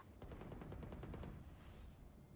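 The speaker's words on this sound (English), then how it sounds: "Why is he shooting my fucking body?" Rapid video game gunfire crackles in a dense burst of shots, fairly quiet and distant, running continuously through the moment without any talking.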